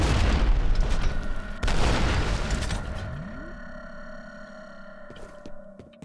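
A cannon weapon fires and explodes in the video game F.E.A.R., two heavy booming blasts in quick succession followed by a long ringing, tonal decay that fades out.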